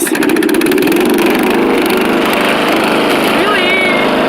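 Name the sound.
riding lawn mower engine running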